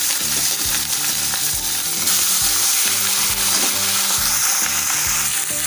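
Marinated fish heads fry in hot oil for an Odia fish curry, giving a loud, continuous sizzle with crackling spatter and rhythmic stirring scrapes and no talk.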